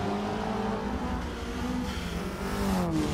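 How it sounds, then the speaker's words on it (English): A touring car engine drones and revs in a racing video game at Hockenheim, a steady nasal whine rising and falling in pitch with a slight rough edge, continuous and close. "Car not sounding great by any means."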